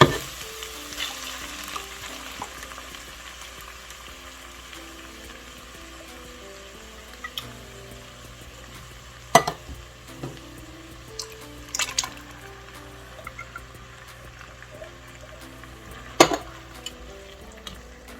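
Tomato sauce and diced tomatoes bubble and sizzle in a ravioli soup pot, a soft steady simmer broken by a few sharp clinks and scrapes of a utensil against the pot.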